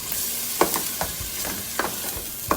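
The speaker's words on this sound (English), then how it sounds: "You first add the onions and you let them saute for a bit." Grated onions saute in a pan for a curry, a soft steady sizzle with a few scraping stirs of a utensil against the pan at irregular moments, close and alone with no talk.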